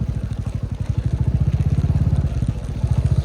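A motorcycle climbing a rough mountain road toward Devisthan in Myagdi, its engine thumping in a fast, even rhythm of close, loud pulses with a slight dip in pace toward the end.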